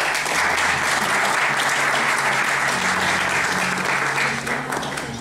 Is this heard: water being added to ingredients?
no